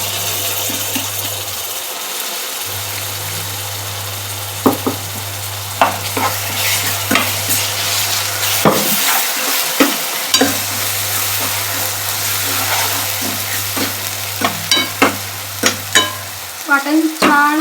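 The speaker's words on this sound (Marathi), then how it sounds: "वाटण छान असं भाजून घ्यायचं पूर्ण तेल सुटेपर्यंत" Coconut masala paste roasting in oil in a pan for Marathi-style chicken sukka, stirred with steady scraping and sizzling, with a few sharp utensil knocks near the end.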